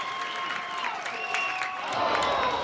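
A softball crowd in the stands during a college game between Washington and Utah, a dense murmur and scattered applause swelling slightly toward the end, with a commentator talking over it.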